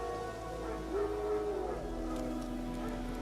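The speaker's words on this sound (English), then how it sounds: "Wild dogs. Yes. More dangerous than wolves." Wild dogs in The Witcher 3 give a faint, distant howl over a low ambient game backdrop, one drawn-out rising call with no speech.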